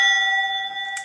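A homebrew electromechanical pinball machine's strike bell rings once, a bright sustained metallic tone decaying slowly, with a brief clatter of mechanism near the end.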